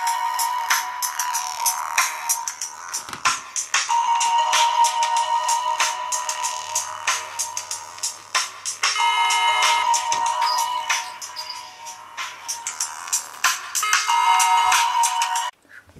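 An iSky Apple Peel 520 adapter on an iPod Touch rings with an incoming call, a loud, steady electronic ringtone with repeating melodic phrases that runs nearly continuously for about sixteen seconds before cutting off.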